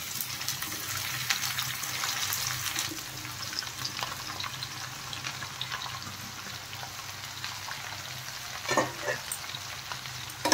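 Chopped ridge gourd fries in hot oil tempered with spices and green chilli, a loud continuous sizzle with repeated stirring scrapes and an occasional clink of the utensil against the pan.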